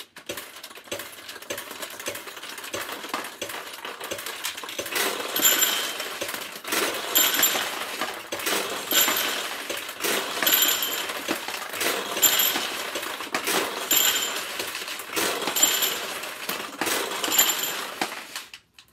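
Balls dropping through a ball machine back into the hopper, a continuous dense clatter of small hard impacts and rattles that swells and recedes in waves, fairly loud and close with no voices.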